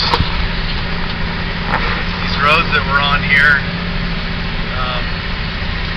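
A logging truck engine runs steadily on forest roads near Forks, Washington, a loud continuous low rumble inside the cab with faint rattles, while someone talks over it.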